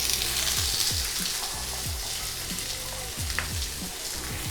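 Sliced peppers and onions fry in a very hot pan, giving a loud, dense, continuous sizzle with crackling spatter close up, while a low repeating hum runs underneath.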